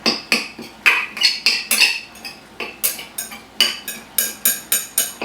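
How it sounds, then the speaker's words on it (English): A spoon scrapes and clinks against a bowl in a quick, regular rhythm, stirring pecans into a thick butter pecan crème brûlée mixture up close with no talking. "we're going to go ahead and mix that all in there"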